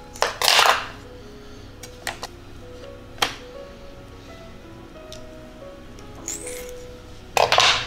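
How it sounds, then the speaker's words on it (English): Kitchen scissors snip the fins off a small turbot: a few sharp, separate clicks and snips with quiet pauses between, ending in a louder burst of handling noise. "We are going to be snipping the fins off because we don't want that while we're marinating the fish."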